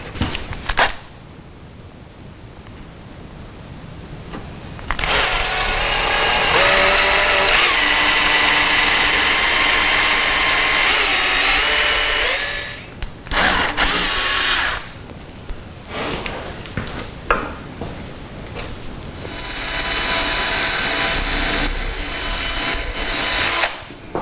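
A power drill with a small bit bores into a wooden rocking chair leg, a loud, sustained whine close up that runs for long stretches, briefly stops and restarts, then drops out and spins up again.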